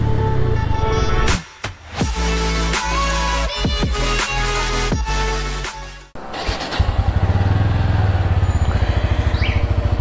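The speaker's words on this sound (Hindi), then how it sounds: "बाइक को तो भाई वार्म अप पे लगा दिया" A motorcycle engine idles loudly and close during warm-up, with a steady throbbing drone, a brief dip near the start and a sharp change partway through before settling into a rapid, even putter.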